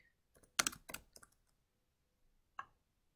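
A computer keyboard tapped while a river name goes into a map program's search box: a quick cluster of clicking keystrokes, then a pause and one last isolated key press, close and fairly quiet.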